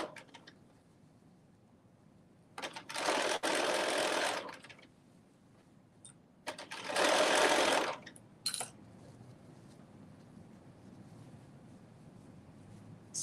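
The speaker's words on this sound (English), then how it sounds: "I'm doing a basting stitch, basting the overlay onto the lining or the dress part." Sewing machine running a basting stitch on a dress overlay and lining, in two loud, close whirring bursts of about two seconds each, separated by quiet handling and short clicks.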